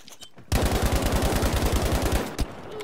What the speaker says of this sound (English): Oh my God! I'm getting shot from everywhere.